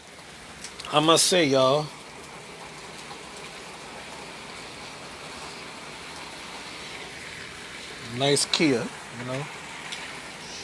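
Steady rain falling on a stormy day, a constant soft hiss running underneath throughout, broken by two short bursts of someone talking nearby.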